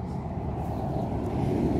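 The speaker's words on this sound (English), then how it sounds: "Excuse the road noise." Steady road traffic rumble from a nearby road beside a home garden in Oropi, a constant low wash of passing vehicles with no clear gaps, fairly loud and continuous.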